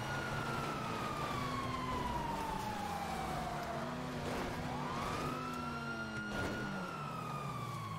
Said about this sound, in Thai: ได้ยินเสียงหวอไหมครับได้ยินเสียงหวอไหม